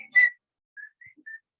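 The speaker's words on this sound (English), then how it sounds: "Maybe you can whistle." One person whistles a few short, clear notes: a brighter, louder opening phrase, then three soft, brief tones spaced apart in a quiet room, with no talking.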